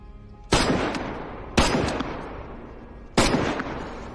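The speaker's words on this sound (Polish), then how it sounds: "Gracz widzę, strzelam do niego." Three loud, sharp gunshots from a player firing in the video game DayZ, spaced about a second apart, each with a long echoing decay and no talking.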